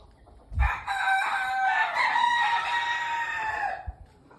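A rooster crows loudly and close by on a poultry farm with caged chickens, one long cock-a-doodle-doo rising and then trailing off, with faint clucking before and after.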